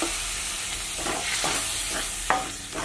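Tomato puree sautéing with channa masala spices in a pan, a continuous close sizzle broken by several rhythmic stirring scrapes of a spoon.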